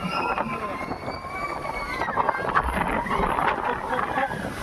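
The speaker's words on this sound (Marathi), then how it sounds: "खूप वारं सुटलं एकदम" Strong wind gusts through a garden in rainy weather, a loud, steady roaring rush with buffeting on the microphone, while people talk and chatter nearby.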